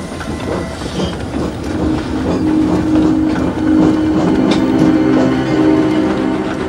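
A long freight train rolls by at a slow, steady pace, wheels clacking rhythmically over the rails with a low rumble and occasional metallic squeal, fairly close.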